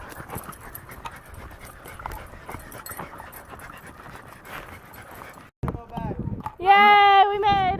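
A dog pants steadily on a forest hike, its quick breaths running close and continuous over footsteps, then voices and a high whine or squeal take over near the end.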